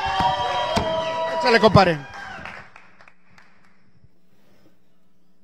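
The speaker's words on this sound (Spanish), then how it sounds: "Fuerte el aplauso" Brief burst of audience clapping and cheering at a live music show, loud and close for about two seconds before fading quickly into quiet, with a voice calling out over it.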